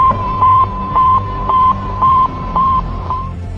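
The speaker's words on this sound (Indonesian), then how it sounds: "Sputnik memancarkan gelombang yang bunyinya seperti ini" The Sputnik satellite's radio signal sends a steady, loud electronic tone that beeps on and off in a regular rhythm, about six to seven pulses against a low, constant hiss, with no voices.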